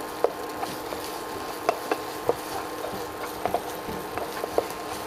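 Thai curry paste with shrimp paste stir-fried in a pan in its own oil, with no oil added, giving scattered light taps and scrapes of a utensil against the pan over a soft background hiss.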